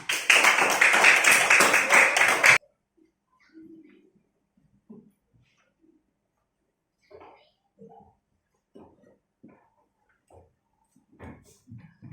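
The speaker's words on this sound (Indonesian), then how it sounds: "Tepuk tangan untuk kita semua." Students in a classroom giving a short round of clapping that stops abruptly after a couple of seconds, followed by near silence with scattered faint taps and small sounds.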